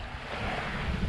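Wind gusting over a 30–40 foot bluff beside the water at a lakeside camping and sailing spot: a steady, close, rumbling roar with microphone buffeting for about a second and no talk.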